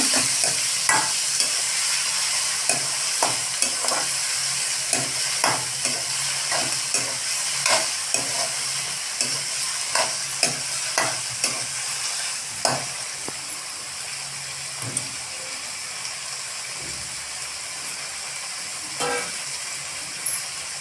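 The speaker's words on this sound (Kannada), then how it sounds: "ಈಗ ಟೊಮೆಟೊ ಹಾಕೊಂಬಿಡ್ರಿ ಮ್ಯಾಚ್ ಇಟ್ಕೊಂಡಂತ ಟೊಮೆಟೊ ಹಾಕೊಡ್ರಿ ಸರಿಯಾಗಿ ಕೈಯಾಡ್ಸ್ಕೊಡ್ರಿ" Tomatoes frying in a pan for paneer Hyderabadi, a continuous hissing sizzle with repeated sharp scrapes and taps of a spoon stirring against the pan at an irregular rhythm, close and moderately loud.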